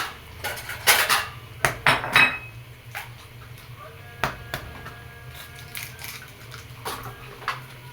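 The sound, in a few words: plate and dishes being handled in kitchen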